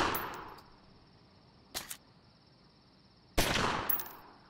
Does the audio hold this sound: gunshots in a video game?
yes